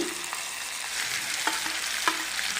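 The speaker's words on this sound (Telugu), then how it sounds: "ఇదే వేడి ఆయిల్లో వేసేసుకోవాలి ఈ పచ్చడి" Mango pickle paste fries in hot oil with curry leaves in a pan, a loud continuous sizzle broken by three or four sharp spoon scrapes at a slow, even pace.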